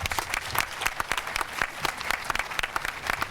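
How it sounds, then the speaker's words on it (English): A crowd at an outdoor site ceremony for Hancher applauds with close, crisp clapping, scattered strong individual claps over a continuous patter of hands. "So everybody, a big round of applause for John and Sue."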